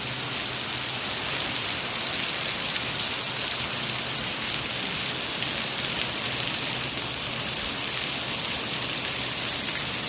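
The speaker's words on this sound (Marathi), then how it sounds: "आणि बघा हे आता कसं गेली अर्धा तास चालू आहे धो पाऊस" Heavy monsoon rain in Konkan pours down in a dense, unbroken hiss, steady and loud throughout with no other sounds.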